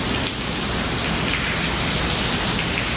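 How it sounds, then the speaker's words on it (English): Heavy rain pours down steadily and loudly, a dense unbroken hiss of drops hitting surfaces close by, with no voices. "it's really raining hard"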